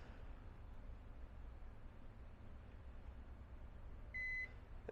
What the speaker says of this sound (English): It beeps at you once, letting you know it's secure.